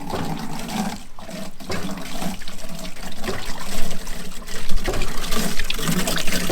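Water from a hand pump at a roadside stop on a truck camper trip gushes and splashes steadily into a container, a close, continuous pour that swells and dips with each pump stroke.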